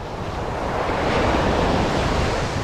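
Ocean waves break on a sandy beach during surf fishing, a loud, continuous roaring wash of surf mixed with gusty wind buffeting the microphone, with no voices.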